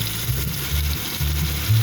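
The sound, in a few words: garlic ginger paste frying with spices in pan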